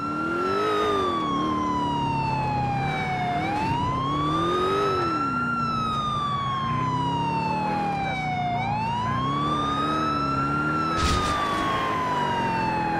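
A wailing police siren in GTA 4 sweeps up and down in long, loud cycles during a chase, continuous throughout with engine noise underneath.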